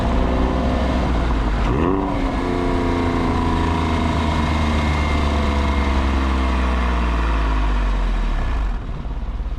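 The 3.6-liter flat-six of a 2004 Porsche 911 (996) runs steadily near the listener, a continuous low drone with a brief rise and fall in pitch early on, then settling before cutting off near the end, with no talking.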